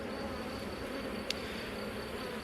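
Honey bees drone in an opened hive brood box, a continuous, even buzzing hum close up, steady throughout with a brief click midway.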